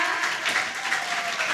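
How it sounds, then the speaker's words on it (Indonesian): Steady audience applause fills a hall at a youth dialogue event on an anemia-free teen movement, a dense, even wash of many hands clapping together without pause. "tepuk tangan untuk kita semua."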